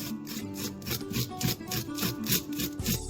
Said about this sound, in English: I'm going to continue to scrape the corn on the cob. I want all that juice